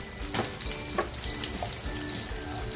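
Chopped onion fries in a pan for a restaurant-style veg Kolhapuri, giving a steady, close sizzle with scattered crackles and pops at moderate loudness.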